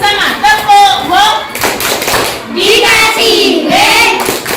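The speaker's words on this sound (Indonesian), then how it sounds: "Coba kita beri aplaus dengan tepuk wow bersama. Tepuk wow." A classroom of children joins in a rhythmic group clapping cheer, short bursts of claps mixed with loud voices chanting along.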